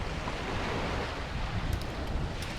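Waves wash steadily against a ship's hull while wind gusts through, a continuous rushing surf with no voices.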